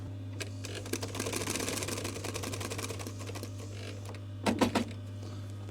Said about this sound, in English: It's just stitching through this line to create the pocket.